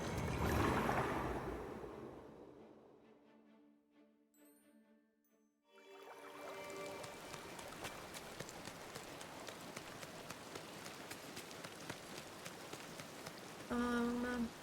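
Rain falling on Eternity Isle in a Disney Dreamlight Valley video game, a steady dense patter of drops that keeps going after a brief lull, with soft game chimes near the end.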